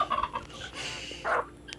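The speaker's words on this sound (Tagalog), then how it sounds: "So ayan yung ating mga manok." Several chickens on a farm clucking in short bursts while being scattered palay and corn, fairly close, with a busy mix of calls and no talking.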